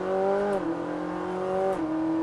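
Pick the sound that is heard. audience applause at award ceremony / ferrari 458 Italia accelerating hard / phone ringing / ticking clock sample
ferrari 458 Italia accelerating hard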